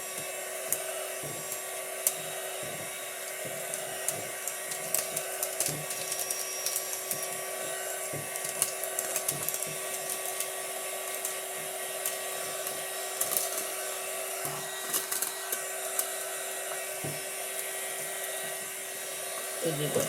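A heat gun blowing hot air onto shrink wrap around a sublimation tumbler, a steady whining fan roar with small crackles, close and continuous, while a person talks intermittently.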